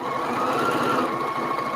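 Brother sewing machine running steadily while stitching back and forth over a seam of a grocery bag, a continuous close whirring hum with no pauses and no voices.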